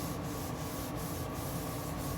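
Paper being rubbed by hand over wet acrylic paint on a gelli printing plate, a continuous close scratchy rubbing with faint rhythmic strokes.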